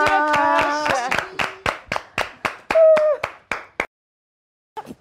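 Rhythmic hand clapping on a television show: about a dozen sharp, evenly spaced claps, with a brief tonal sound over the first ones, then a pause before one last clap.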